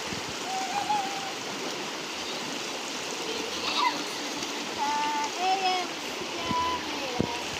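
Steady wash of river water flowing at a riverside laundry spot in Africa, continuous and fairly close, with scattered splashes and brief bird-like chirps over the top.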